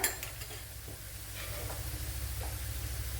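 Garlic and dried red chillies frying in oil in a pan for Kerala-style mango pickle, giving a steady low sizzle with occasional stirring scrapes and light utensil clinks throughout.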